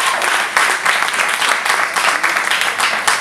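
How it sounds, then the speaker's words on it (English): A crowd at a music networking event applauds the panelists and performing artists, a loud dense burst of clapping that holds steady for a few seconds without fading. "Give them all a round of applause."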